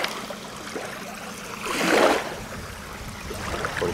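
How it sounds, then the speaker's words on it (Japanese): Small waves lap softly against the shallow shore of Lake Biwa with gentle splashing and one slightly fuller wash midway. No one speaks. "まあこれ波の音で ASMR 動画になるけどね"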